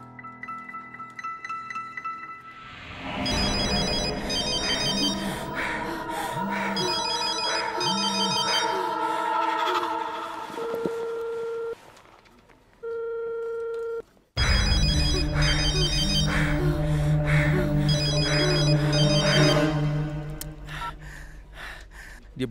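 A telephone rings on and on in a repeating electronic pattern, loud and close, blended into a dramatic music score, with brief drops in sound and no one picking up.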